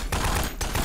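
Rapid bursts of gunfire from an overpowered gun in Garry's Mod, two loud dense volleys split by a short gap, close and dominating with no talking.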